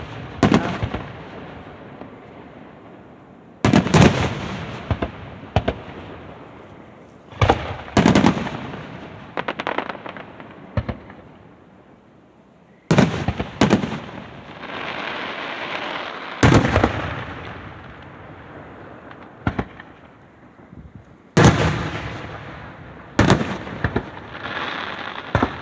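Fireworks burst over Sunday Lake in Wakefield, Michigan, on the third of July, sharp booms and crackling volleys at irregular intervals, some clustered in quick runs, loud and echoing across the water.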